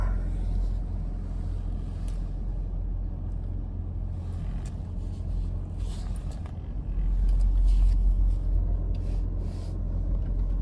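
A 2003 Toyota Land Cruiser drives along steadily with a constant low engine and road rumble inside the cabin, swelling slightly partway through with no talk.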